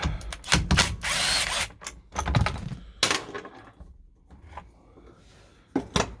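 Power tool spinning out the 15 mm center bolt of the steering wheel on a 1994 Ford Explorer: several loud, close bursts of whirring and ratcheting with clicks and metallic handling between them.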